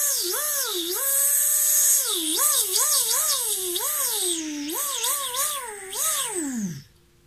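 A voice imitates a grinding machine with a continuous wavering buzz that rises and falls in pitch, then winds down abruptly at the end.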